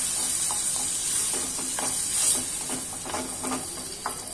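Tomatoes being stirred into chana dal and spinach frying in a pan, a steady hissing sizzle with soft repeated scraping strokes of the spoon, close and continuous with no talk.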